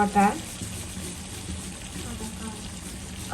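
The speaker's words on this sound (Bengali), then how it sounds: "এবার আমি তেলের মধ্যে 1 কাপ পেঁয়াজ দিয়ে দিলাম, আর দিয়ে দিলাম 2 চামচ রসুন বাটা।" Onion and garlic paste frying in oil in a pan, with a steady hiss and sizzle close by after a short voice at the start.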